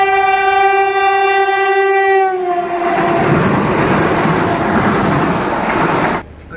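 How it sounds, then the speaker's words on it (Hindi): Garib Rath Express passenger train running at about 100 km/h: a loud, sustained horn blast for two seconds, then a steady, close roar of wheels on rail that cuts off abruptly near the end. "तो यहाँ पे देखो अभी हमारी ट्रेन जो है ना कुछ 100 की स्पीड में चल रही है"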